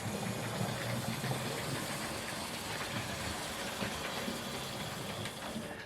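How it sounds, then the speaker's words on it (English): Hornby model locomotive Hawksworth County pulling out of the station, a faint, continuous motor whir and hiss with soft rolling rail noise, steady and close with no talking. "we're going to bring this Hawksworth County out of the station"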